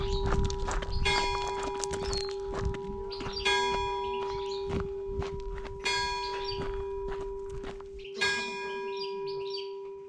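Bells of the twelfth-century church of Saint-Baudille in Soumont ring out loud and resonant, struck again and again in clanging groups over a steady hum, with a few birds chirping faintly outdoors.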